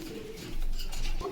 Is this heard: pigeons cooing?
yes